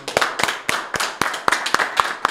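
Sparse, sharp hand claps in a loose rhythm, roughly three to four per second, from a small talk-show audience welcoming a young entrepreneur; close and fairly clear with no talk.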